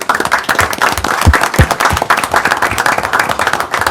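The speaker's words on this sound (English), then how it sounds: "I'm going to give them a round of applause for their service to our city" A city council meeting audience in Fergus Falls, Minnesota, gives a round of applause, sustained loud clapping from many people in a room, close and even throughout with a few sharper individual claps standing out.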